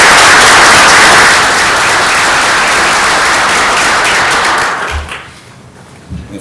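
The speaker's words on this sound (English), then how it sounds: "perhaps everyone can join me in a round of applause to thank them for their service to our country" A council meeting audience gives a loud, dense round of applause that holds steady for several seconds, then thins out and fades to a few scattered claps.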